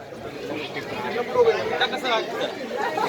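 Dense, continuous chatter from a jubilant gathering at the Ambedkar Jayanti festival in Satpur, many voices overlapping close by with some louder swells of shouting.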